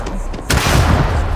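Gunfire from a sci-fi firefight in the video game Starfield, a sharp loud burst opening into dense rumbling shots that continue steadily up close.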